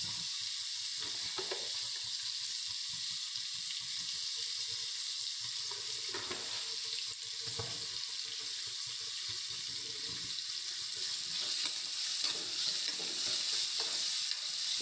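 Onions frying with salt in a pan for tomato chitranna, a loud, steady hiss of sizzling oil with occasional soft stirring scrapes, continuous and close, with no one speaking.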